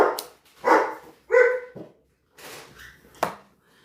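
A dog barks indoors in a few separate bursts, loud and close, with short yips and a whimpering edge between them and no voices over it.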